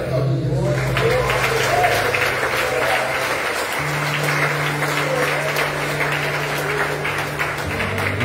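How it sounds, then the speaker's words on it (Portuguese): A church congregation applauds steadily through a family worship and Holy Communion service, a dense, sustained patter of many hands with a low sustained musical tone beneath it. "Você pode aplaudir Jesus."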